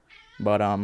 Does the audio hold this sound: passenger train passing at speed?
no